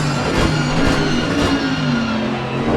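A Mercedes GT3 race car engine drones continuously in a racing video game at Imola, a dense, steady roar with no pauses and no voices.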